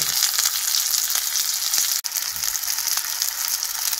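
Hamburg steak patties fry in a pan over very low heat, giving a dense, even crackling sizzle that runs steadily and close, with one brief dip partway through and no voices.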